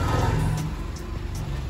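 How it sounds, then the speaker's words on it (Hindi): Hyundai i10 or i20 car engine revving hard in first gear while climbing a slope in a torque test, a steady loud low roar throughout without speech. "आवाज सुनो एक बार गाड़ी की,"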